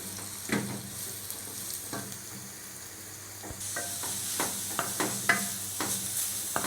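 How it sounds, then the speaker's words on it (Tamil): Cabbage sautéing in oil for a South Indian cabbage and carrot poriyal, giving a soft steady sizzle with a quiet scrape each time it is stirred, heard close and alone. "முட்டைக்கோஸ் ஒரு 2 நிமிஷம் எண்ணெயிலே வதக்குங்க"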